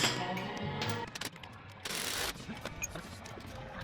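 Bolt on the lower strut of an Audi A4 B5 being tightened during a coilover install, giving close, irregular ratcheting and metallic clicks in short bursts with brief pauses.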